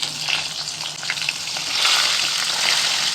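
Pointed gourd pieces frying in hot mustard oil with salt and turmeric, a steady close crackling sizzle that swells slightly louder partway through, no voices.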